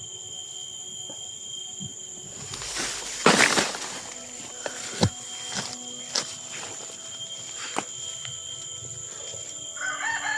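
Rooster crowing once in a rural outdoor setting, a short, fairly faint call over a steady background hiss with a few scattered knocks.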